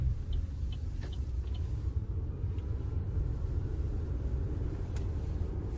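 Inside a Maxus eDeliver 9 electric van driving through busy traffic: a steady, low road rumble and faint hum throughout, with no engine noise rising above it.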